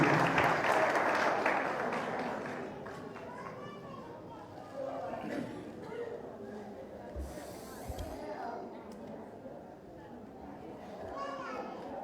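Church congregation at a thanksgiving Mass in Saint Clare Parish applauds warmly for a priest, the clapping loudest at the start and fading within a few seconds into murmured chatter, children's voices and speech.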